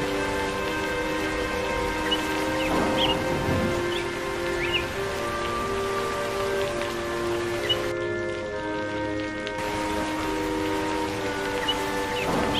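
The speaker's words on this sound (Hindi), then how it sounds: "बारिश देख रही हूँ" Steady rain falls with a constant hiss, heard alone over a soft music-like background tone in a cartoon scene.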